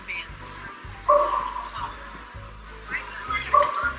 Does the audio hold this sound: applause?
no